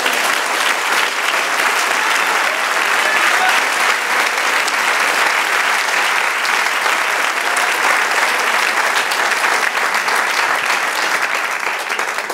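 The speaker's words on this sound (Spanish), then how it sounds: "Denle un aplauso al Señor" Church congregation at a Spanish-language sermon gives a long, loud, even round of applause to the Lord, dense clapping from many hands that holds steady without a break for over twelve seconds.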